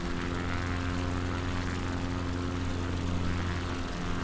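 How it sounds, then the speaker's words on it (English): Propeller engine of an XCub light aircraft in a flight simulator runs up under throttle on the ground with the parking brake set, a steady loud droning hum that holds alone throughout. "Throttle, revving it up."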